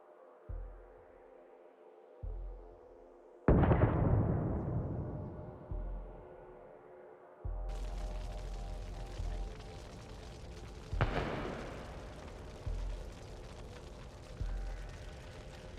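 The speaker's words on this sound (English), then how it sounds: "then it's torn apart by a powerful explosion" A burning armored vehicle in a Russian convoy in Donetsk region, struck by Ukrainian kamikaze drones, explodes with a powerful boom, followed by further heavy blasts and rumbling, with a sharp crack near the end.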